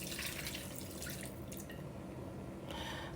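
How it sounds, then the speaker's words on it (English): A cup of water is poured into a pot of porridge yam with fish, giving a short, close splashing and trickling pour that continues steadily for a few seconds. "I'm adding a cup of water to that."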